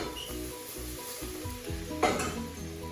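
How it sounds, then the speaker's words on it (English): Yellow pepper and onion sizzle gently in a pan as they sweat, a soft continuous hiss under a background tone, with one sharp utensil clink against the pan. "our veg is sweated off here"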